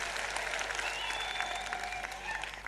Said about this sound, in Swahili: Wapigieni makofi tena.